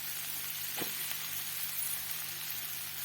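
Chopped cauliflower fries in a pan as soaked chopped egg is added, giving a steady, moderate sizzle with a couple of brief splashy hisses near the start.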